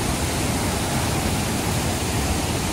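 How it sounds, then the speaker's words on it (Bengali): A waterfall in Shillong roars with a dense, continuous rush of water that stays loud and even throughout, with no voices. "এই হচ্ছে হলো ফলস"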